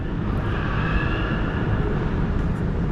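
Planes taking off from Miami International Airport produce a steady, loud jet roar, a broad rumble that holds constant for the full three seconds as heard from a riverside walkway in Brickell, with no voices.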